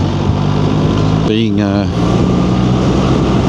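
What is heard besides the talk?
BMW R1300 GS Adventure motorcycle riding on motorway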